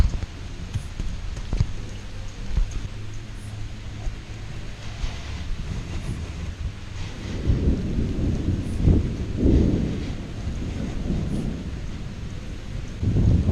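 Steady outdoor rain hisses throughout, with low thunder rumbles and gusts swelling louder in the second half; no voices are heard.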